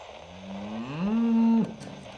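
A single long cow moo, rising in pitch and holding steady before cutting off, loud and close.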